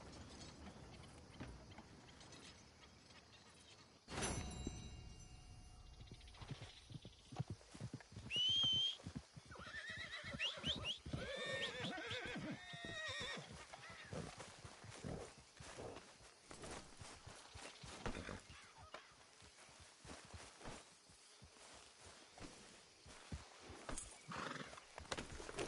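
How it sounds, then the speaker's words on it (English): Inside a video game, a horse clip-clops in a steady hoof rhythm and whinnies loudly, with mechanical ratcheting and creaking under the hoofbeats, all without speech. "What'd I give for a horse as fine as that?"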